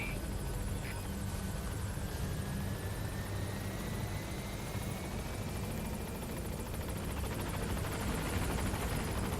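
A support helicopter in Metal Gear Solid V: The Phantom Pain arrives at a landing zone, its rotor and engine a steady, dense drone throughout with no break, fairly loud and close, with a faint radio voice at times.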